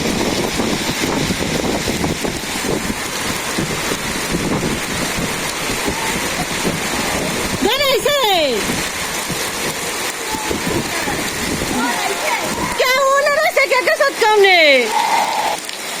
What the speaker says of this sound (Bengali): বৃষ্টি হইলো আবার ঝড়ি হয়ে গেল